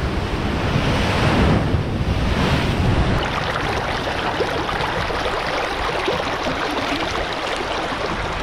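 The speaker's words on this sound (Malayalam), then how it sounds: "ഞാനിപ്പോൾ നിൽക്കുന്നത് നമ്മുടെ കടലിൻ്റെ അടുത്ത് തന്നെയാണ്." Sea waves break near the shore with wind buffeting the microphone; a heavy surge of surf crests in the first few seconds, then settles into a steadier, hissing wash of water.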